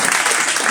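A church congregation breaks into sustained applause at a Sunday service, a dense, steady wash of clapping that holds at full volume throughout the brief moment.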